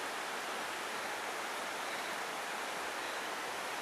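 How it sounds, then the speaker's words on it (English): A creek beside Apple Orchard Falls Trail in the Appalachians runs in a steady, even rush of flowing water. It is continuous and unbroken, with no voices. "Just listen to that water roll."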